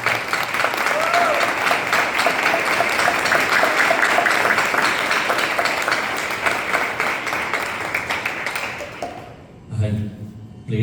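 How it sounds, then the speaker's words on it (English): An audience at a devotional bhajan concert applauds the accompanying musicians, a dense, loud, sustained clapping that runs for about nine seconds and then fades as a few instrument notes come in. "Let's all quickly put a big round of applause for all the accompanying artists"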